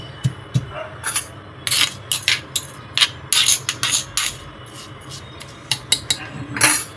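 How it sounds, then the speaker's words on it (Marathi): Rice being pounded coarse in a stone mortar and pestle (khalbatta), a string of sharp close knocks and grinding clinks in irregular bursts, with no talking. "आता मी या खलबत्त्यामध्ये पूर्ण तांदूळ घालते, कुटून घेते।"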